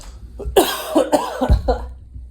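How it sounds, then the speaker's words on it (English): A man coughs several times in a row during a New Year's reflection speech, a loud cluster of close, harsh coughs with short gaps between them. "Inappropriate coughing."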